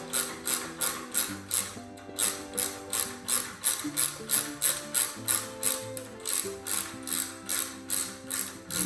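A hand ratchet loosens a bolt on a NordicTrack Commercial 2450 treadmill, with close, crisp clicking in steady repeated strokes, about two per second for nine seconds.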